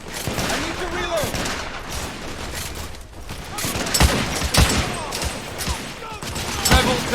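Gunfire from The Order: 1886, a Victorian-era shooter game, with bursts of rapid shots and heavy impacts layered over shouting voices in a chaotic firefight, loud and close.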